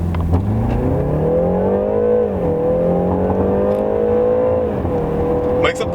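BMW 3 Series (320d or 330i) engine revving hard at full throttle in sport mode with traction control off, a steady rising and falling engine note that climbs, dips, then holds high, loud and close for several seconds.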